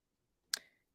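A single soft mouse click, short and crisp, sounds once in a quiet room.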